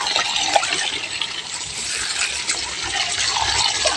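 Tap water from the municipal supply runs steadily, a continuous hissing gush with no breaks, used for feeding pigs on a small farm.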